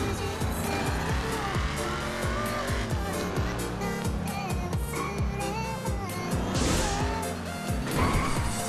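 Car in GTA 5 backing up and driving onto a raised structure, with loud revving engine and squealing tires under game music, no talking.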